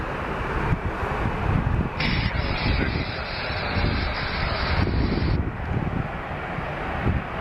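Airliner engines roaring steadily on the runway at Seattle airport, a loud, continuous broadband rumble with wind buffeting the microphone and a brighter high whine swelling in partway through.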